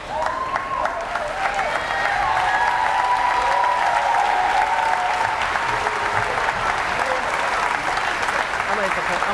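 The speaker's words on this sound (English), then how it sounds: "Family and friends, please give one final applause to the class of 2029" Family and friends at an 8th grade advancement ceremony applaud the graduating class of 2029, sustained crowd clapping that swells and holds for several seconds, with a few faint voices and a whistle-like tone over the din.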